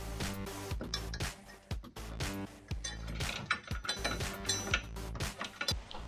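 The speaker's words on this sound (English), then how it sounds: "So I got that marked off, and now I'm just gonna cut it." A Jeep Wrangler JK body mount bracket is cut with rapid, ratcheting mechanical clatter and sharp repeated clicks and grinding bursts, close and moderately loud throughout with no talking.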